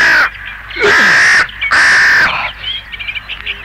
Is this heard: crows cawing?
yes